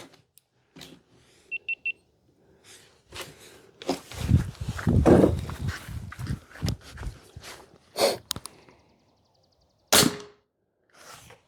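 Sumatra 2500 air rifle shots fire Javelin 34 grain slugs into a target, sharp cracks and thumps spread across the stretch amid handling clatter and a short beep, loud and close, no speech.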